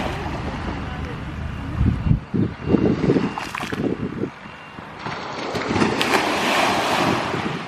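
Sea waves washing onto a beach in Malta, a loud rolling surf with wind buffeting the microphone, swelling toward the end, while a person walks along the shore.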